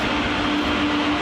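A train rumbles at a railway crossing, giving a brief, steady, loud mechanical roar with a faint sustained hum running through it.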